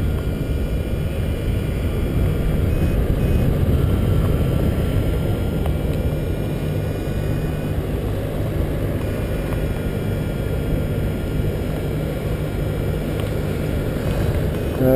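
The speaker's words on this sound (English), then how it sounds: "Bloody motors coming right at me." Paramotor engine of an oncoming flyer, a steady low droning hum with wind rush, continuous and fairly loud throughout with no talk.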